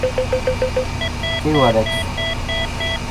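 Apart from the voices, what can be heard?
helicopter cockpit alarm beeping in video game Flight Simulator 2004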